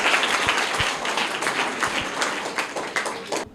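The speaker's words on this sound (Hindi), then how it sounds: "जोरदार तालियां" A crowd applauds with brisk, dense clapping that holds steady for a few seconds before thinning out.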